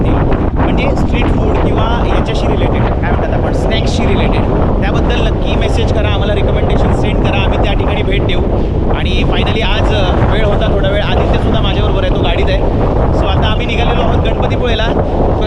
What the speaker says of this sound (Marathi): प्रचंड वारा आहे प्रचंड वारा कारण आता पावसाळ्याला सुरुवात झालेली आहे